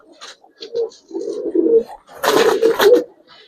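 Old-breed pigeons in a loft coo in several rounded, throaty bursts, the last one louder and fuller, close by with no talk.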